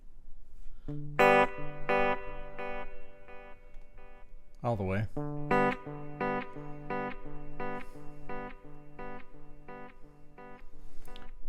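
Distorted electric guitar chords through an Ernie Ball Expression Series overdrive pedal at full ring out loudly in repeated strums, with someone speaking briefly partway through.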